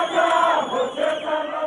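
A vast crowd of mourners honouring Nelson Mandela outdoors in the rain raises their voices together, a loud, sustained wall of chanting and cheering close by.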